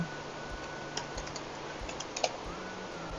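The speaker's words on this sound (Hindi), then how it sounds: "जैसे ही आप टाइप करते हैं आपकी ईमेल आईडी" Keys tap on a computer keyboard as an email ID is typed, sparse soft clicks at an uneven pace over a steady background hiss, close and quiet.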